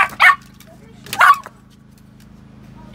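A dog at a campsite gives two short, sharp barks about a second apart, close and loud over a faint low hum, with quiet in between.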